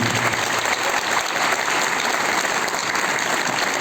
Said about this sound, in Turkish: Ben kendisine de özellikle bir alkış istiyorum.